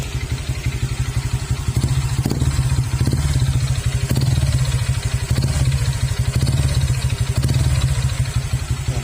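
A Honda Click scooter engine with a worn connecting rod knocks in a fast steady rhythm under a loud, close idle, growing louder as it is given gas, with no talk over it.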